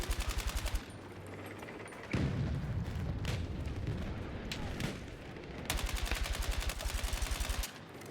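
AK rifle fire in the video game Battlefield 6, rapid automatic bursts at the start and again near the end, with heavier booms and battle noise in between, all loud and close.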